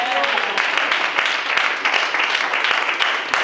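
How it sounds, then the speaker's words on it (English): A church congregation claps their hands at a pastor's birthday celebration, a dense, loud, continuous roar of applause from a large crowd with scattered voices mixed in. "Now clap your hands for yourself."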